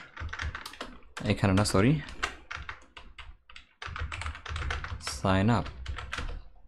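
Keyboard typing for HTML coding on a computer, with soft clicks under someone speaking almost throughout.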